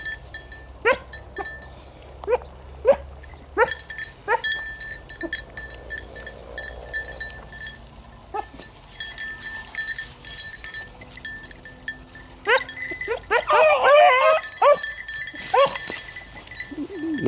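Hunting dogs during a rabbit hunt outdoors, giving a series of sharp, spaced barks and yelps early on, then a burst of high excited baying and howling near the end.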